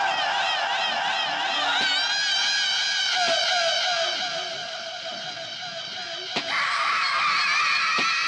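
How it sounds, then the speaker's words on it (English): Echoey, sustained screams from the 1968 horror film Night of the Living Dead, layered high wailing voices ringing continuously with reverb, loud and dense, with a couple of brief thumps. "These echoey screams."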